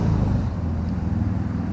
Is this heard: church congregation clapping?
no